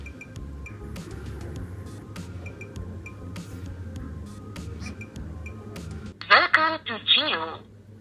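Call dialing tone from the speaker of a Boat Ultima smartwatch: a few short, loud tonal bursts near the end, rising above a steady low background hum.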